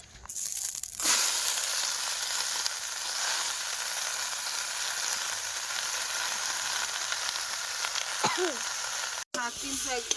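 Leafy greens dropped into a hot pan and frying, with a loud, dense sizzle and crackle that holds steady throughout, close up, with faint stirring near the end.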